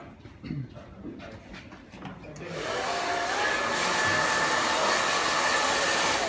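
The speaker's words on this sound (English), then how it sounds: "So, I now know I can dry the hair, yeah?" A hair dryer switches on at a barbershop during a fade haircut and blows steadily and loudly for several seconds, after a brief stretch of quiet voices.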